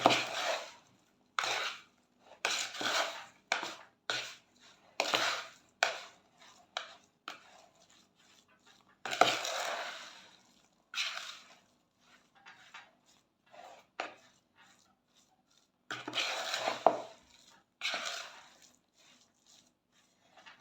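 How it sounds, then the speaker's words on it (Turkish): Batter with butter is stirred in a bowl by hand in irregular bursts of wet scraping and slapping, close and moderately loud, with short pauses between strokes. "Şimdi iyice karıştıracağım."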